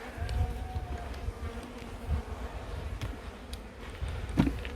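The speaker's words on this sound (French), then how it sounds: "C'est des jeunes abeilles" Young honeybees buzz steadily around a hive frame, a dense close droning hum with light knocks and handling noises from the beekeeper working the frame.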